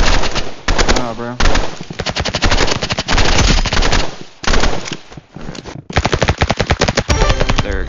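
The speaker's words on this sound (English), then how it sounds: "I had to use the Uzi on him" An Uzi submachine gun in the video game Marvel Rivals fires in long rapid bursts, loud and close, with short gaps between volleys over about eight seconds.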